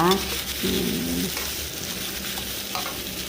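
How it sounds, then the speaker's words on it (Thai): Cucumber and egg stir-frying in a hot pan, a constant close sizzle with brief scraping and a short tonal hum near the start; no clear speech. "อันนี้จะผัดแบบกรอบๆนะคะ"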